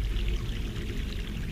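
Water pouring and rushing through a pipe in the adventure game The Longest Journey, a steady, fairly loud splashing flow with no voices over it.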